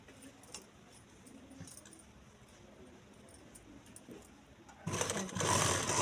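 Near the end, a sewing machine stitching fabric in a Delhi boutique starts abruptly, its fast, steady whirring running loud and close after a few seconds of quiet room sound.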